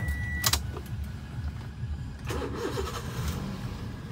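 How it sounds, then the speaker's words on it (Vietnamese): A 2012 Toyota Vios E with a 1.5-litre engine cranks briefly and starts, then settles into a steady idle heard up close, with a few small clicks around the start. "sẽ lổ máy lên để cho chị và các bạn nghe tiếng động cơ"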